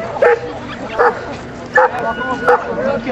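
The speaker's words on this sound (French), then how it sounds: "le maître chien est alors obligé d'intervenir et de lui envoyer son chien" A police dog barks in short, loud bursts during a municipal police demonstration, four barks spaced about a second apart with crowd and talk murmuring underneath.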